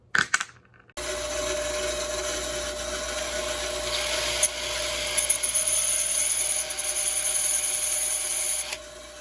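A power tool cutting along a drawn line in a wall during a mini split air conditioner install, starting after a brief clatter and then whining steadily and loudly for several seconds with slight pitch shifts.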